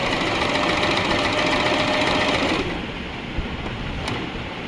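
Usha Janome Stitch Magic sewing machine running steadily while sewing on a button, a loud continuous motor whir with needle clatter that drops to a softer hum partway through, with a brief knock near the end.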